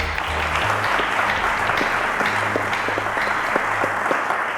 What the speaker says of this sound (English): A round of applause to Uren Mado.